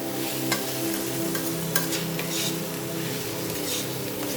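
Tomatoes and spices frying in a pan for a Bengali-style chicken curry, with a constant soft sizzle and a few scraping stirs from a utensil, close up and fairly quiet.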